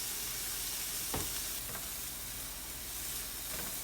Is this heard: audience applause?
no